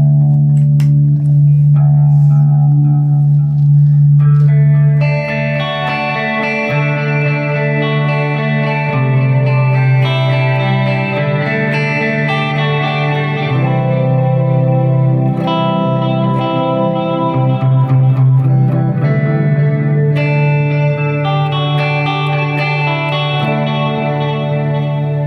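Electric guitar through a Marshall SV20H amp with hall reverb added in the effects loop: sustained distorted chords ring out with long, spacious reverb tails, played steadily and loudly with no talking.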